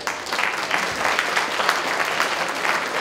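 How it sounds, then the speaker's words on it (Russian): Audience applause at a 65th anniversary celebration of a university faculty of physical culture and life safety, a full, steady crowd clapping that holds evenly loud with no voices over it. "Этому уже надо аплодировать."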